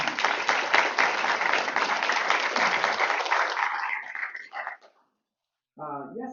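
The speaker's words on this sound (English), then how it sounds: "Let's give them another round of applause." Hall full of applause at a school board meeting, dense and loud for about four seconds before thinning into scattered claps and stopping, followed by a brief pause and then a voice speaking.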